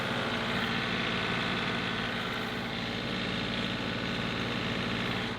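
A tractor engine runs steadily with its throttle raised while the boom is extended for a lift, a continuous loud mechanical drone with no talking.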